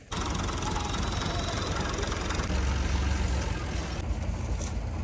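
A tractor or farm threshing machine engine runs steadily at idle during a grain harvest, a continuous loud low rumble throughout with no talk.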